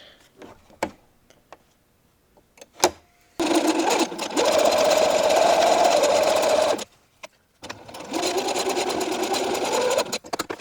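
A sewing machine stitches a shoulder seam on a linen tank top in bursts: a few short taps, then two long, steady runs of rapid mechanical whirring and ticking, separated by a brief pause, close and clear.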